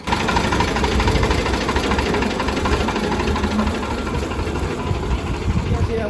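A tractor engine chugs steadily nearby, a continuous low rattling drone with voices talking over it.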